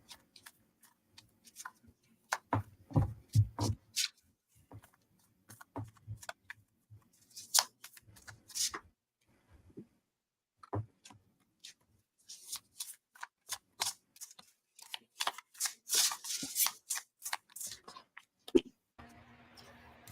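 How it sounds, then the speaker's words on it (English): Playing cards being shuffled by hand during a casual stream: irregular bursts of crisp riffling and snapping, close and moderately loud, separated by short silent pauses, with a voice speaking briefly between them. "I got to keep shuffling."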